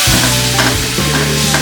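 Loud, close sizzling as pork adobo is stirred in a hot pan, a continuous frying hiss with a few scraping strokes.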